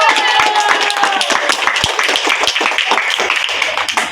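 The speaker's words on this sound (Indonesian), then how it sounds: "ya, tepuk tangan." Students clap their hands together in a classroom, a steady rapid patter of many claps lasting several seconds, loud and close, with a teacher's voice faintly under it.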